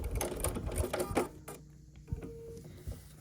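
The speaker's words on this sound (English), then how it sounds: "I'm going to sew with 1/4 inch down this seam" A sewing machine runs a quarter-inch seam through a scrappy signature quilt block, a fast steady whirring burst that stops around the middle, followed by a few soft handling clicks and taps in near quiet.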